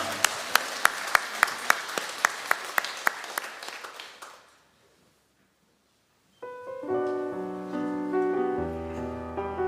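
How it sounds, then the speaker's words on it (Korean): A church congregation at a New Year's Eve service claps in a steady rhythm for about four seconds, loud and close, then falls silent before soft keyboard music begins. "주님께 감사의 박수 올려드립니다."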